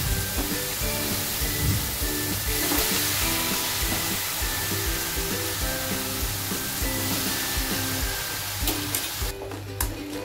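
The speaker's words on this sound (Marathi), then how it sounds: "आता आपण फ्राय पॅन मध्ये या सगळ्या भाज्या टाकूया।" Vegetables frying in a frying pan, a dense steady sizzle with faint stirring clatter running loud and close for the whole stretch, easing slightly near the end.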